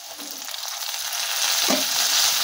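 Ginger-garlic paste frying with browned onions gives a soft, fairly quiet sizzle that swells slightly, with faint stirring scrapes underneath.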